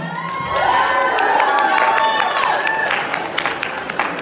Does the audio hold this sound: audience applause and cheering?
yes